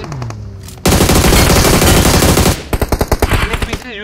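UMP submachine gun fire in a battle royale game, heard as a loud, sustained burst of rapid automatic shots followed by a string of separate, punchy single shots, close and dominant.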